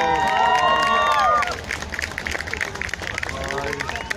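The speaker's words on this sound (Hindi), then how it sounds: "तालियां इन सभी के लिए।" Crowd applause at the 2019 Republic Day parade on Rajpath, greeting Indian National Army veterans; a dense, steady wash of clapping that softens after the first second and a half, with a blaring tonal sound over the start.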